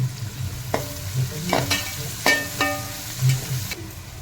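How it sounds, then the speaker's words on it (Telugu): Fresh mint and coriander leaves frying in hot oil for a Rayalaseema-style pulao, a steady close sizzle with several scraping stirs of a spoon against the pan. "మనం ఫ్రెష్గా కట్ చేసి పెట్టుకున్న పుదీనా, కొత్తిమీర వేసుకొని వాటిని కూడా ఆయిల్లో బాగా ఫ్రై చేసుకోవాలి"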